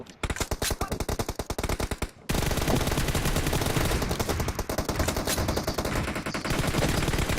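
Rapid automatic gunfire in PUBG Mobile rattles out in a steady fast stream of close, loud shots, breaks off briefly after about two seconds, then resumes as a dense, continuous burst.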